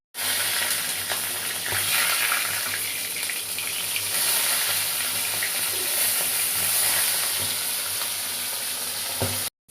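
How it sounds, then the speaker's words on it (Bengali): Tilapia pieces fry one by one in hot oil in a wok, giving a loud, continuous bubbling sizzle close by that holds steady throughout. "একটা একটা করে মাছগুলো আমি তেলের মধ্যে দিয়ে দিলাম"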